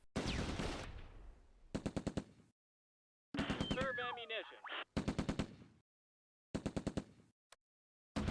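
Machine gun fire in the war game Close Combat, with short rattling bursts repeating between stretches of silence and sharp, close, loud reports, plus one burst mixed with a screeching whistle-like effect.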